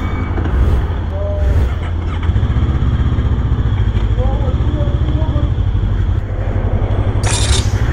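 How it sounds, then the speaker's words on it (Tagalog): Bristol Veloce 500 motorcycle on a test ride, its engine drone rising and dropping through the run with road and wind noise, voices talking over it and a brief hiss near the end. "Magte-test drive kami ng motor nila."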